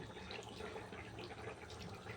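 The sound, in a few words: water poured out while washing dough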